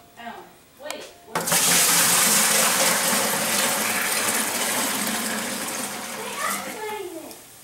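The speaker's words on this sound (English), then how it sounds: "we're going to dump it into our fermenting bucket" A dissolved homemade wine mixture gushes loudly into a fermenting bucket in one continuous close pour, after a couple of brief knocks, tapering as the flow slows near the end.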